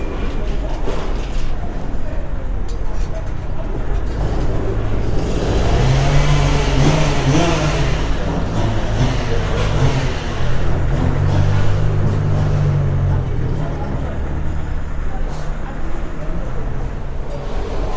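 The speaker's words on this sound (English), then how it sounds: "It's always a bit unnerving as well when the cars drive past and the floor" Cars drive past at an indoor car boot sale, a rumbling engine and road noise that swells in the middle and shakes the floor, with voices and crowd chatter throughout.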